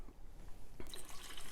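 Homemade lemonade with ginger and turmeric is poured back into a container, a short splashing, filling rush of liquid that swells midway through and runs on steadily to the end, fairly close.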